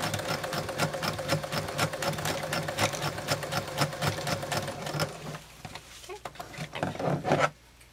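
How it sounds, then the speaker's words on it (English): A sewing machine back stitches across ribbon trim on a tutu, its fast, rhythmic needle chatter running steadily, then slowing and stuttering in short bursts before stopping. "Once you get to the edge, go ahead and back stitch, back across it."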